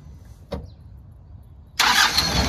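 A car engine cranks and catches, then roars into a steady loud idle after a brief quiet pause.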